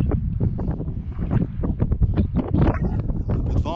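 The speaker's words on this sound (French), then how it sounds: "Un peu de vent, hein." Strong gusting wind on a mountain top near a hilltop chapel buffets the microphone in rough, uneven bursts, loud and close, with no one speaking.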